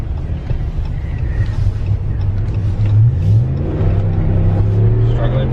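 A Ram Rebel pickup truck accelerates hard from close by, its engine climbing in pitch while it struggles for traction, with a passenger's voice heard briefly over the steady rumble.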